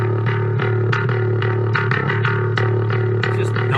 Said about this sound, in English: Very, very aggressive bass part here.